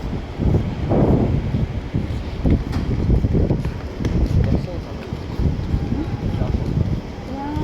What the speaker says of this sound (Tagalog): Pagdating dito, mahangin.